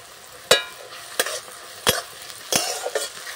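A spatula strikes and scrapes through an onion chop mixture with chopped chilli frying in a pan. Four sharp metallic stirring clanks land at roughly even intervals over a low, steady sizzle, close and clear with no talking.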